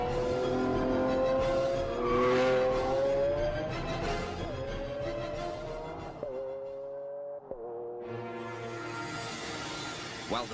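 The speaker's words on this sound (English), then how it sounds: "This 12-cylinder symphony has a full range, from a moderate rumble through the town at low revs to the screaming crescendo of maxed-out" A Lamborghini Aventador V12 engine revs hard and climbs through gear shifts with rising, screaming pitch and brief breaks between gears, loud and close, with no talk over it.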